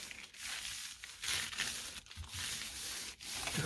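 Cardstock rubbed over paint on a gel plate makes steady scraping, swishing friction strokes close up, broken by short pauses between passes, with no voices.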